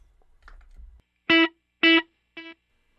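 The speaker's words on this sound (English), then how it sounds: "so let's look at the digital delay." Three sustained electric guitar notes with a delay effect, the last one quieter like an echo, after a few soft plucks and low rumble.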